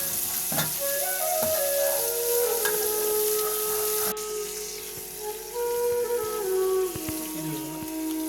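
Soybean dish sizzling loudly and steadily in a pan, with the clatter of stirring layered over a continuous frying hiss.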